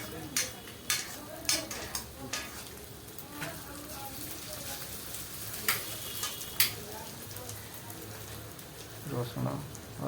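Garlic and ginger frying in a pan with a steady, close sizzle and crackle, broken by occasional scrapes and stirring taps. A voice speaks intermittently over the cooking.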